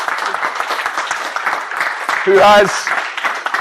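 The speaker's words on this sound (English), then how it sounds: "Round of applause for Donan" Audience applause for a speaker during a talk at a security conference, a steady patter of clapping with a voice briefly heard above it.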